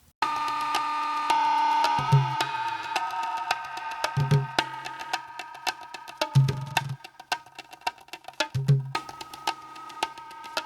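Dense crackling granular texture from the Sugar Bytes Graindad synthesizer, grain density linked to grain size, with a sustained tonal hum, broken every two seconds by low thumping bursts; the grains grow busier and more scattered toward the end.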